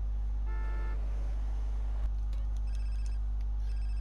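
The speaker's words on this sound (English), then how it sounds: "Oh, we've got a phone call, so let's listen to this." A phone rings in the video game GTA San Andreas: a short electronic ringtone burst over a steady low background hum, followed by fainter beeping tones, with no talking.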